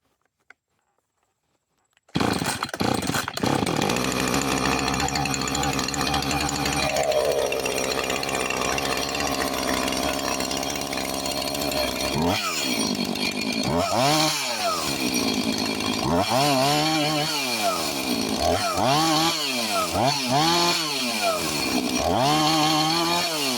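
A Husqvarna 445 chainsaw fitted with a new carburetor starts after a moment of silence, then runs loud and close at a steady idle before several rising and falling throttle revs.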